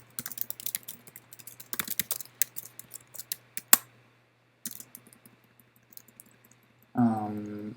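Rapid, uneven clatter of computer keyboard keys in short bursts over a quiet room, pausing briefly before a second run of keystrokes, then a different tonal sound at the end.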